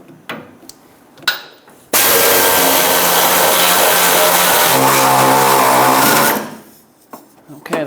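Power socket tool whirs steadily for about four seconds while tightening bolts on the fuel filler neck of a Ford E-350 Super Duty, close and loud, starting abruptly and winding down, with light clicks and handling noise around it.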